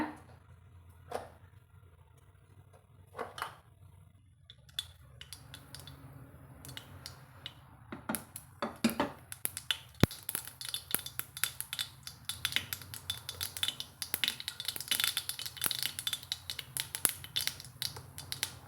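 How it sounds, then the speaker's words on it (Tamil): Mustard seeds pop and crackle rapidly in hot oil, sparse at first and then building into a dense, continuous spluttering. "கடுகு பொரிஞ்சதும்"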